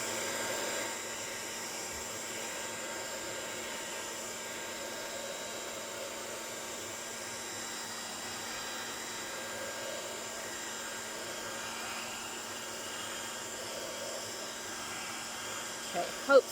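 A heat gun blows steadily across a men's card to dry alcohol ink, a constant airy hiss and motor hum holding at moderate level, with a short knock near the end.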